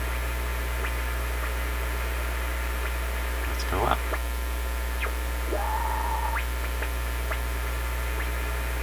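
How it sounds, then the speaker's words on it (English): Panasonic RF-3100 shortwave radio noise with the BFO on, a steady hum and static, punctuated by whistling tones and warbling beat notes sweeping in and out. "Sounds like the BFO is on."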